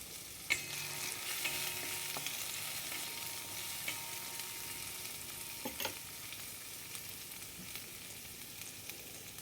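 Green chili paste and turmeric sauté in a pan as a dal palak is cooked, giving a steady soft sizzle with scattered scraping stirs and a few sharper utensil knocks, close and moderately quiet, with no talking.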